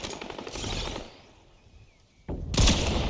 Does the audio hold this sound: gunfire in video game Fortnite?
yes